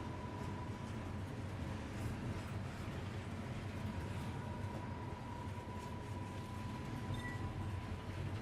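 Moving train in the video game Final Fantasy XV: a constant low rumbling roar of wheels and carriage with a faint steady tone, unbroken and fairly loud, no talk.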